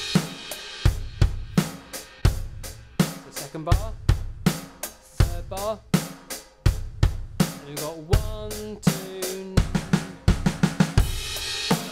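A drum kit line opening on a crash cymbal, then bars of kick, snare and hi-hat with tom fills, played close and loud while a voice counts and talks briefly over the beats.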